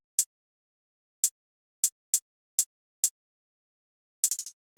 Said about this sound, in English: This is just a standard hi-hat and it's got descending half steps at the end.